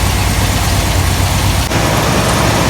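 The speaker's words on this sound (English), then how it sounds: "This stupid thing's just sitting here idling." A Ford 460 V8 engine idling steadily with a deep, even rumble throughout, close by and loud, with no talking.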